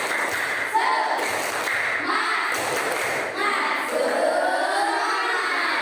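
An Indonesian primary school class chants together in loud, shouted unison, punctuated by a few sharp rhythmic claps and thumps, voices close and lively in a classroom.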